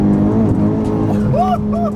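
A Honda Civic Type R FK8 tuned to around 400 wheel horsepower with rolling anti-lag pulls hard in fourth gear, its loud, steady engine drone climbing in pitch. An excited voice talks over it throughout.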